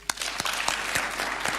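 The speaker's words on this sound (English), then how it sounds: "And a clap would be good." Audience applause at a Kenya–Malaysia media briefing at State House, a steady wash of clapping with a few distinct sharp claps standing out, moderately loud and with no talk over it.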